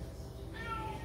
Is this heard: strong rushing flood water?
no